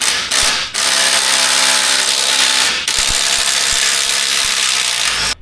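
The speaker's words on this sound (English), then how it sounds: "there's just one more bolt, which is that one right there, that I might need to take out" Ratchet or power driver working a bolt out of a Jeep Wrangler seat, a loud continuous buzzing whir broken by a few short pauses, close to the mic with no speech.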